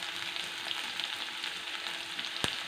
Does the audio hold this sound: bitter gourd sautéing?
yes